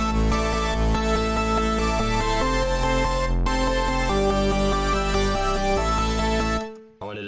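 A synth house melody plays over a steady pulsing bass, full and loud, with a brief dropout before it cuts off at the end.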